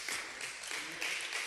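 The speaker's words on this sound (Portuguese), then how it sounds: "dê um aplauso a Deus" A church congregation claps in a full, steady burst of applause at the close of a service, with a few faint voices mixed in.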